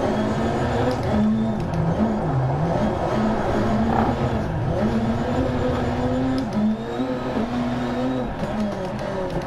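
Ford Fiesta MK8 RX Supercar engine in DiRT Rally 2.0, loud and close, its pitch rising and dipping repeatedly as the car accelerates, lifts and revs through corners.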